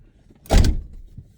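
A van door shuts once with a single solid thud after a large bottle is placed in the door pocket, followed by a faint settling knock and quiet surroundings.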